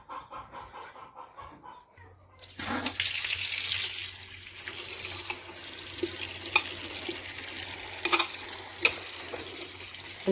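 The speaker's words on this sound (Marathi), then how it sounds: "हे जे चिप्स आहेत आता दोनदा तीनदा मस्त छान असे आपल्याला धुवून घ्यायचे आहेत" Potato chip slices washed in water in a kitchen, a tap running into a sink with splashing and clinks of slices being stirred by hand, close and fairly loud after a quiet start.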